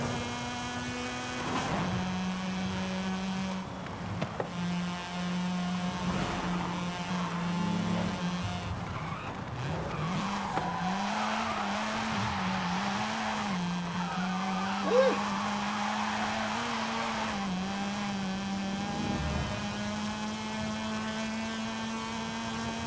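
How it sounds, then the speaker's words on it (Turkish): A tuned Mazda RX-7 drifting in Forza Horizon 5, its engine holding a steady high-revving drone that rises and wavers through shifts, with tire squeal building in the middle over continuous loud game audio and no talking. "Arabanın 9000 devirlik sesi inanılmaz iyi."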